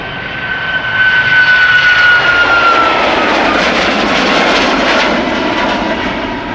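A TUI passenger jet, five years old, takes off at Schiphol Airport, going to Tenerife. Its engines build into a loud, steady, broadband roar lasting throughout, with a high whine fading early on.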